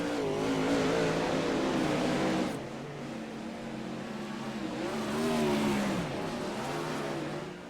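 Race cars roar around the Oswego Speedway oval on the final laps of a B-Main, engines surging loud, fading slightly, then swelling again as the field passes at a moderate distance.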